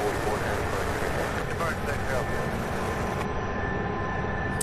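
An Airbus A300 airliner, 22 years old, arrives at Louisville airport after a flight from Bangor, Maine, heard as a steady, broad, distant jet roar with faint tonal whine and no talk over it.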